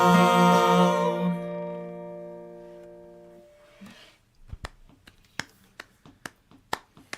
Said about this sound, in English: So I'm trying to alternate the clap and the foot tap to give you the double sound